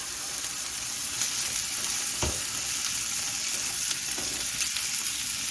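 Slices of pork belly, both samgyeopsal and ogyeopsal cuts, sear in a hot pan with a steady, dense sizzle and crackle throughout, close and fairly loud, with a brief thump near the middle and no talking.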